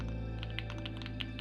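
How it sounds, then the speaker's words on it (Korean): Typing on a QK Alice Duo split keyboard: quiet, rapid key clacks over a steady background hum, softly rhythmic and close. "타이핑 해볼게요. 참고로 소리가 너무 마음에 들어요."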